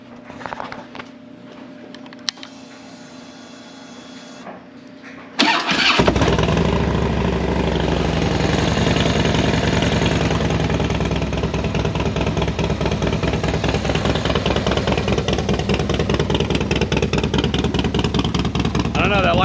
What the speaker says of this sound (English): let's start the bike up and see how we do with that oil light